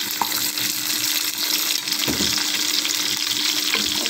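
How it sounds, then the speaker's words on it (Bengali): Six or seven garlic cloves frying in oil, a steady bright sizzle with occasional stirring scrapes and a soft splash, close and continuous with no voices. "এগুলো ভালোভাবে তেলে নেড়ে ছেড়ে ভেজে নিব।"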